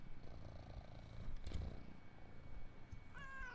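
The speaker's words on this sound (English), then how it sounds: "Listen to his purring. He never stops purring." A domestic cat purrs close to the microphone, a steady low rumbling purr that runs throughout, ending with a short higher meow-like cry.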